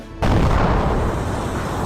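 In a video game, an underground explosion bursts out and raises a pillar of sand: a sudden loud onset, then a dense, sustained roar of rushing sand that carries on steadily without fading, with no voices.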